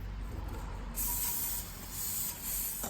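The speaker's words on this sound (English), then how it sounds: "Just zap this little brake clean to remove any oils" Brake cleaner sprayed onto a brake rotor on a 2015 Chrysler 200C, a close, loud continuous aerosol hiss in steady bursts with a brief surge, without talk.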